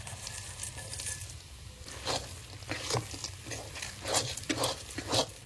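Cabbage frying in a pan as rice flour and fried peanuts are stirred in, a steady low sizzle with soft scraping and patter bursts from stirring, close and fairly quiet, no talk.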